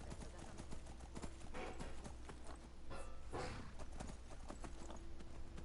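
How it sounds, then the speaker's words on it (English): Horse hooves clip-clopping on a ridden horse in the video game Skyrim, a continuous even rhythm of hoof falls over a steady background rumble, with no talking. "I'm gonna take the horse this time."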